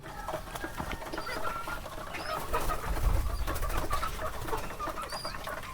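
Five pairs of pigeons kept in a backyard pigeon house, cooing and shuffling through steady, moderately loud chatter with occasional sharper clucks and some low rumbling, no voices.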